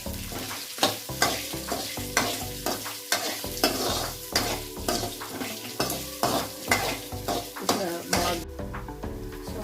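Onions sizzle and fry steadily in a hot pan, with repeated loud scraping stirs in a rhythmic pattern throughout, close and prominent with no talking.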